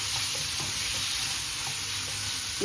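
Spicy prawns fry in a hot pan while being stirred, giving a steady, dense, close sizzle with light scraping from the stirring, loud and continuous without speech.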